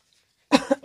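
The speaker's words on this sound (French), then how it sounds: "décidément, je tousse aujourd'hui" A single close, sharp cough breaks the silence, a quick double burst that ends in a short throat-clearing sound.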